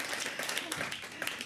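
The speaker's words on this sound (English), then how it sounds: "Enthusiastic applause for Digstown!" Enthusiastic audience applause at CBC/Radio-Canada's annual public meeting, a dense wash of many hands clapping with a few sharper claps standing out, steady and fairly loud for the whole moment.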